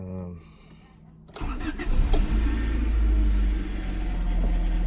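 A 1995 Honda Civic Si hatchback engine cranks over with a starter whir, then catches into a loud, close rumble that keeps running steadily.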